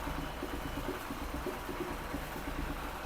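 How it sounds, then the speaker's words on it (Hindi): A TVS Apache RTR 160 motorcycle engine idling after a full rebuild, with a quiet, even rhythmic pulse that runs throughout. "इंजन का साउंड भी मस्त मोला मक्खन आ रहा है।"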